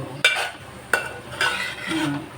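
Curry ingredients stirred in a pan with egg, drumstick (mulakkada) and dried prawns: a few distinct scraping stirs of a spoon against the pan over a soft, steady sizzle, close and fairly quiet, with no talking.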